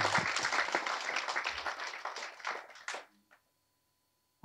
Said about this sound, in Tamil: அவருக்கு இந்த சமயத்தில் நம்ம எல்லாருமே ஒரு கைத்தட்டல் கொடுக்கலாம்.